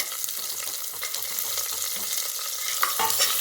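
Onions sauté in a pan for Tamil vallarai rice, a steady sizzle and frying crackle with the scrape and clatter of stirring now and then, near and moderately loud.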